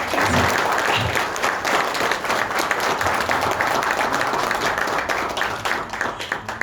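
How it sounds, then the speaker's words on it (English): An audience at a corporate sales training farewell gives a big round of applause for the coach, sustained loud clapping from many people that carries on for several seconds with only slight swells. "And a big round of applause."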